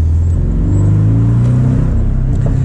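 A Porsche 718 Boxster GTS in Sport Plus mode accelerates hard, its engine and exhaust rising in pitch with a loud, close, continuous roar and no speech.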